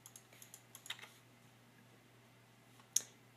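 Typing on a computer keyboard during 2D CAD work: a quick run of light, close key clicks in the first second, then a pause and one sharper keystroke near the end, over a faint low hum.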